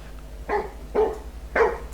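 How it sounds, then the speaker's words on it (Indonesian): A dog in the horror film Paranormal Activity 2 barks insistently at a basement door, three sharp, evenly spaced barks standing out over a low background hum with no talking. "Hari berikutnya, Abby menggonggong terus-menerus ke arah pintu basement tapi tak ada yang menyadarinya."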